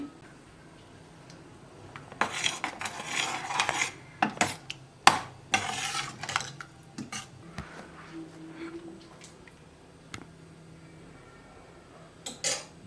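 Utensils clink and scrape against a plate and pot as mushroom gravy is served alongside ready-made paratha, a series of close, irregular metallic taps and scrapes with quiet pauses between.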